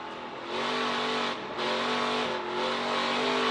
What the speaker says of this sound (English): Listen to Joey work that throttle.